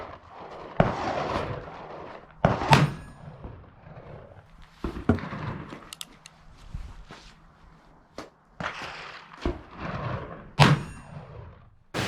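Several sharp revolver shots from an 1862 Colt Pocket Police, a second-generation black-powder cap-and-ball pistol, crack out at irregular intervals outdoors, each loud and sudden with a short decaying tail.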